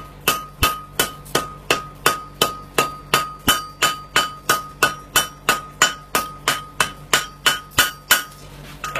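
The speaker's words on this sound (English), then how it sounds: "I'll just put a cross pain clip on this." A hammer forges a cross pein clip, ringing out in about twenty sharp, evenly spaced strikes on the metal, loud and close, in a steady rhythm with no talk.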